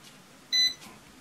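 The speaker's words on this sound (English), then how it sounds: "the reason it keeps beeping is because I'm putting my hand over the top" A single short electronic beep, bright and clear, sounds once against quiet background noise: a GPS warning from a Hubsan 501SS Pro drone whose GPS signal is blocked by a hand.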